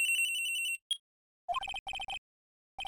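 A cell phone rings in the Ace Attorney video game, first as a steady electronic ringtone buzz, then after a brief chirp as a bright, rapid repeating melodic ring in short bursts, clean and close with no talk.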